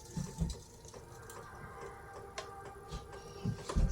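A leche flan mixture of eggs, evaporated milk and condensed milk is poured through a strainer, giving a soft steady trickle broken by a few light clinks and knocks, with no talking.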